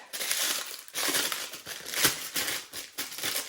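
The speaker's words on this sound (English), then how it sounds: "Crumple up your parchment paper so it's not all rolled up and won't behave." Parchment paper is crumpled by hand for an air fryer tray, producing close, loud crinkling and crunching in repeated bursts with brief pauses between squeezes.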